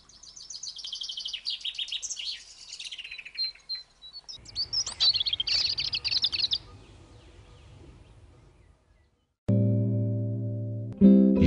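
Several small birds chirp and tweet in quick, bright bursts, close and fairly loud, before the sound drops away into a low rumble and then a sudden loud tonal electronic hum.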